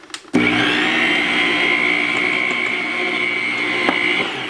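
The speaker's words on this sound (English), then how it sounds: "It's going to turn on my blender." An electric kitchen blender whirs steadily as it mixes icing sugar, switching on sharply and running loud and continuous on its own with no talk.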